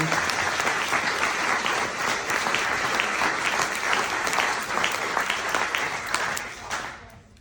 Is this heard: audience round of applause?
yes